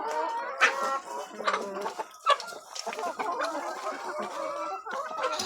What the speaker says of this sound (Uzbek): Hammasi chiroyli, sog'lom tovuqlar. Xo'rozlarni ham qarang.